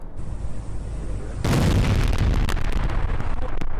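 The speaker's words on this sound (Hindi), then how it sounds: "ड्रोन हमले में नष्ट हुई है यूक्रेन की तोप" A drone strike blows up a Ukrainian howitzer: a sudden loud blast cuts in after a steady background rumble and is followed by sustained crackling roar.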